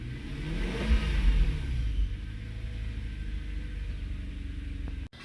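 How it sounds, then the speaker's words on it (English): Lexus SC430 with the 3UZ-FE V8 and stock exhaust revving up then settling to a low steady rumble, heard nearby with windows down, ending in a sharp click. "Stock exhaust."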